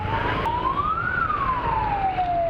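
An ambulance siren wails, rising then slowly falling in pitch, heard at moderate distance over low traffic rumble on a highway.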